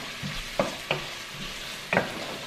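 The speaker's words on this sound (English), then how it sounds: "I'm gonna heat that up and then fry my 1 large onion." A large onion frying in avocado oil in a pan on a stove, a soft steady sizzle close by with a few sharp stirring scrapes and clatters spaced through it, no talking.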